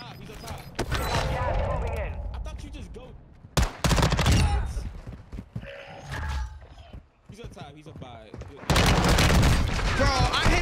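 TAQ-56 rifle fire in Warzone 2.0, loud close bursts of rapid shots in several clusters with brief lulls, mixed with game effects while players talk excitedly over it.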